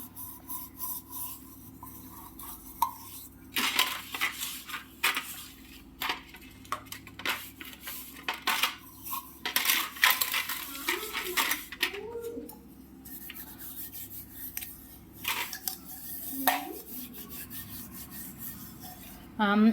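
A metal vessel scrubbed by hand with lemon and red soil powder, irregular bursts of close gritty rubbing and scraping separated by quiet pauses, with occasional faint voice sounds.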